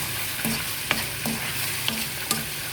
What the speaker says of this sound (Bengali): আর এইটা চড়াইছি খিচুড়ি একজনে খিচুড়ি খাইব শামুকের খিচুড়ি টমেটোটা দিয়ে দিছি